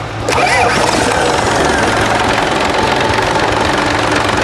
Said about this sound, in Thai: ก็เดี๋ยวเรามาติดเครื่องกัน